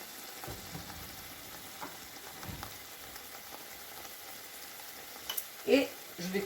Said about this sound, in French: Là, je vais laisser cuire mon saumon à peu près 5 à 8 minutes.